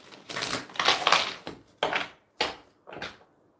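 Tarot cards are shuffled by hand in several quick riffling bursts with short pauses between them, close up and with no talking.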